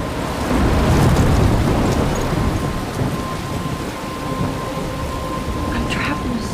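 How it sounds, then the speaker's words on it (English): A thunderstorm with heavy rain in the video game Life is Strange: a deep rolling thunder rumble swells early, then fades into a constant loud hiss of rain. "I'm trapped in a storm?"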